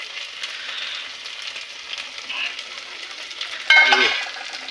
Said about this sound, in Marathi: अद्रक लसणाची पेस्ट त्याच्यात चांगली शिजू द्यायची, तळू द्यायची